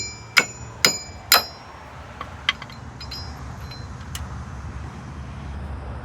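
A small hammer taps metal wheel studs on a van's axle hub: three sharp, ringing clinks close together, then a few fainter taps, over a low steady background hum.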